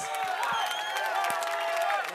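A crowd applauds and cheers after a Halo free-for-all match, with scattered sharp claps and raised voices whooping over a steady murmur.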